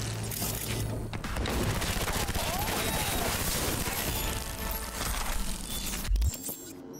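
Submachine gun fire in Cyberpunk 2077: a long, dense stretch of rapid shots mixed with game effects and a heavy boom near the end, with a voice talking over part of it.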